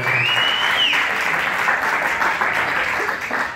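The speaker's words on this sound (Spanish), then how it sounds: "¡El aplauso para Guerrero Junior!" Loud, steady crowd applause for boxer Guerrero Junior at a boxing event, a dense wash of clapping filling the whole moment with a faint voice beneath.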